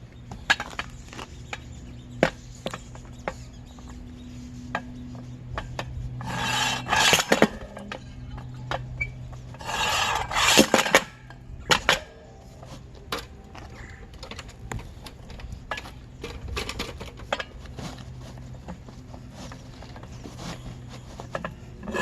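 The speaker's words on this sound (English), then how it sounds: "So we're gonna use this to break the bead on the tire, and I'm gonna start right by the sensor, the tire valve itself." A bead breaker works the tire bead of a 2010 Ford F-150 near the valve sensor, producing a run of close ratcheting clicks and mechanical clatter with two louder grinding bursts midway, over a low steady hum.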